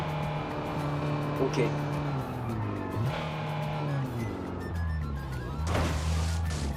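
A car in GTA driving fast near 240 with a droning engine that rises and falls through gear shifts, while someone speaks in French over it.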